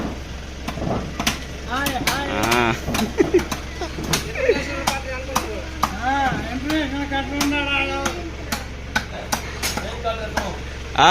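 Chicken meat being chopped with a cleaver at a meat shop: sharp, repeated thuds land at an uneven pace throughout, some loud and close, while people talk steadily over them.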